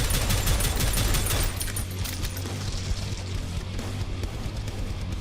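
Rapid automatic gunfire in the video game Prodeus, a dense loud stream of shots that eases slightly after the first second and a half, then keeps rattling on without a break.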